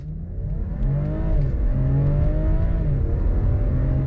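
An 85,000-mile BMW X3 M40i accelerates hard from 0 to 60, its engine note rising steadily in pitch, dipping briefly at a gear change and climbing again, loud and continuous from inside the car.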